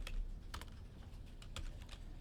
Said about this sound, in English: And now start typing the items here.